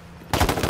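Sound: rocket hitting a player in the video game H1Z1

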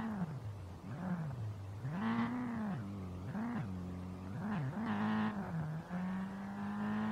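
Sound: car engine racing in video game Street Legal Racing Redline

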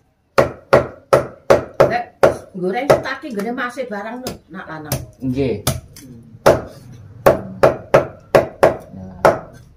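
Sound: chopping a whole chicken into pieces for frying

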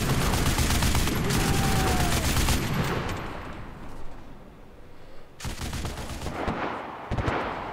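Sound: heavy machine gun firing in the video game Enlisted

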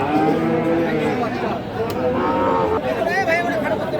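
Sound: Friesian and crossbred bull calves at a cattle market

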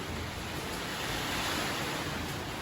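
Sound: strong wind

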